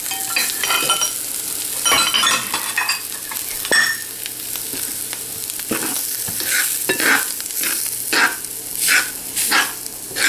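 Samo millet dry-roasts in a pan, a spoon stirring and scraping the grains with irregular rustling scrapes and faint sizzle, close up and steady.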